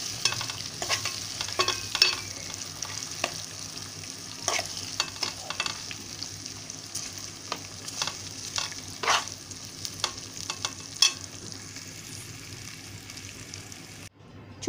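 Tempering for a homemade tomato pickle sizzles in hot oil while being stirred, giving a steady close crackle broken by repeated scraping strokes, with no talk over it.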